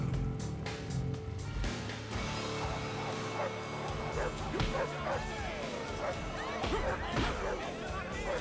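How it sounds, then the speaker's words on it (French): Several dogs bark, yip and whimper in a dog-fighting scene in an action movie, excited yelps overlapping almost continuously while people talk over them. "Est-ce que tu connais les combats de chiens?"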